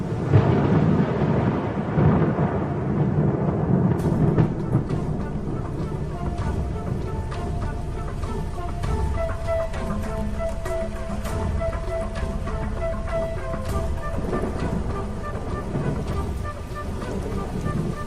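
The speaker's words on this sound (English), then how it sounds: "As the last embers burn to dust, the promised rain arrives at last." A steady roar of heavy rain with low rumbling thunder running throughout, dense and continuous, with a faint tonal hum surfacing in the middle.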